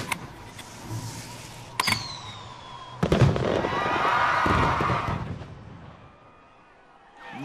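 A firework bomb launches with a sharp burst and rushing whoosh that swells for a couple of seconds before fading, preceded by a brief click and crackle, with no voices over it.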